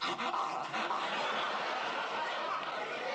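An actor in a Mork & Mindy sitcom scene imitates a dog with yips and barks over a dense, steady background, joined by audience laughter and chuckles.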